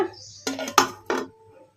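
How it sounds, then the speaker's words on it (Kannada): A plate lid lifted off a bowl of soaked black-eyed pea dal, giving a few short, close clinks and clatters in quick succession before quiet returns. "ಈಗ ತಟ್ಟೆ ತೆಗೆದು ನೋಡೋಣ"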